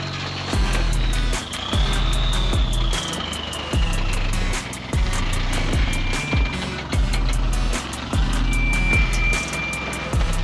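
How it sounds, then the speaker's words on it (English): A Toyota 7X rock crawling buggy climbs a rock crack on the Lower Terminator trail at Table Mesa, Arizona. Its engine drones loudly and steadily, broken by repeated heavy thumps and surges as it works up the rock. "our buddy Virgil in the 7X Toyota buggy is going to attempt to drive up the"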